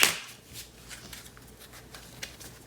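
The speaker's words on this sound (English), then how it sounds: "I'm gonna shuffle this deck a few times" A tarot card deck is shuffled close by on a table, opening with a sharp riffle and followed by soft, irregular rustles and flicks of cards for a few seconds, with no talk.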